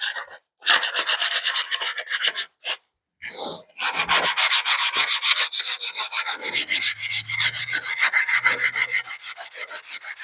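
Steady rasping strokes of rubbing on an LS engine's sealing surface during cleaning, loud and close, in a fast repetitive rhythm with a few brief pauses early on.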